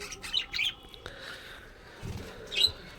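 Pet birds in a cage indoors give a few short, bright chirps and tweets in brief bursts, near but fairly soft, with quiet gaps between calls.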